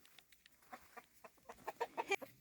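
Several hens cluck in short, scattered bursts inside a backyard farm coop in winter, the calls growing louder and denser toward the end, close by with no talking.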